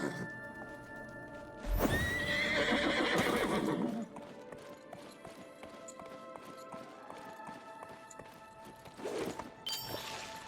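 Max, a horse in a video game, gives a loud, close whinny and then trots off with fast clip-clopping hooves, followed by quieter ambience and a second short burst of hoof sounds near the end.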